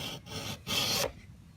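Rasping strokes of a file sharpening chainsaw teeth, three scraping passes with short gaps, close and fairly loud.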